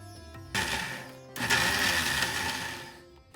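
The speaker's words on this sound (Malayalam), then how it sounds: "ചക്കക്കുരു വേകുന്ന സമയത്ത് തേങ്ങ വറുത്തത് ഞാൻ അരച്ചെടുക്കുകയാണ്." A mixer grinder whirs as it grinds roasted coconut, a dry pulse of motor noise near half a second, a brief pause, then a longer loud run that tapers off by the end.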